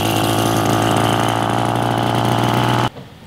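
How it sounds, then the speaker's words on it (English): A small moped engine idles with a steady, buzzing putter up close, holding an even loud drone before stopping abruptly near the end. "Nonfiction video about me riding my little moped"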